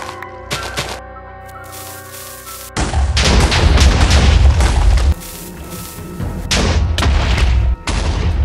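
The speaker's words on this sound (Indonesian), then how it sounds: "kali ini aku akan main petasan di dekatnya mereka" Minecraft firecrackers go off in a game, with several loud, heavy booming blasts in quick bursts separated by brief quieter gaps.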